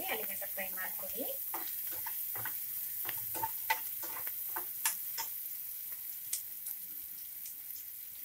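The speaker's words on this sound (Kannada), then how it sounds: "ಈರುಳ್ಳಿ ಸ್ವಲ್ಪ ಕಲರ್ ಚೇಂಜ್ ಆಗಲಿ, ಅಲ್ಲಿ ಗಂಟೆ ಫ್ರೈ ಮಾಡ್ಕೊಳ್ಳಿ." Chopped onion fries in a pan for a peas and potato kurma, with a soft continuous sizzle under frequent light stirring clicks and scrapes, close by.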